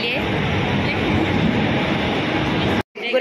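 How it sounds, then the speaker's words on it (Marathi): A train rumbles loudly into a station in a continuous close roar of wheels and carriages, steady throughout before cutting off abruptly near the end. "आमची ट्रेन आली आहे"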